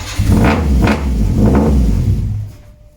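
A Nissan Micra K10 with a high-compression CG13 engine and individual throttle bodies is blipped on the throttle, giving several loud, close rumbling surges that fade away near the end.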